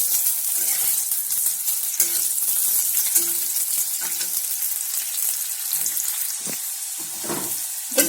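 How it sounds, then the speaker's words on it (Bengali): Bitter gourd frying in a pan gives a steady, close sizzle that runs the whole time, with occasional louder crackles and spatters and no talking. "আমি উচ্ছেটা নর্মালি ভাজি, আমি এখানে হলুদ দিচ্ছি না।"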